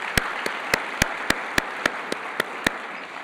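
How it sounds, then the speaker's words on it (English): Ten evenly spaced sharp claps ring out, one roughly every quarter second, over a steady broad hall murmur during an opening plenary of a health conference; the response sounds sparse and rhythmic rather than a full roar. "I'd be grateful if you would give them a round of applause as well."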